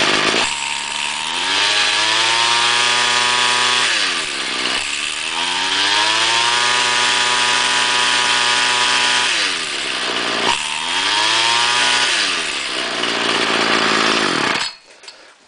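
An old small engine with a heavy head, probably on a chainsaw, runs loud and close, revving up and down in repeated sweeping surges before cutting off abruptly at the end.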